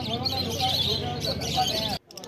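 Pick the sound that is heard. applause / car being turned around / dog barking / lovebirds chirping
lovebirds chirping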